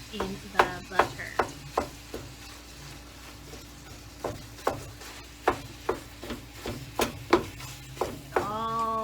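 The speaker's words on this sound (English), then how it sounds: "So here I am just getting the meat all separated to brown up in the butter." Ground meat browning in butter in a pan, with a utensil scraping and breaking it apart in repeated sharp strokes over a soft steady sizzle, close and fairly clear.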